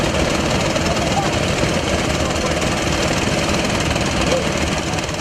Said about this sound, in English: a Chinese-made engine, Chanfan, which powers the vessel to move and pump the gravels up from under the river